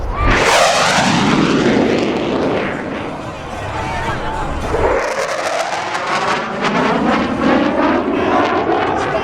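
US Navy Blue Angels tactical jets sweep past at an airshow, a loud roaring pass with a sweeping Doppler whoosh followed by a second rising jet roar, with faint announcer talk underneath.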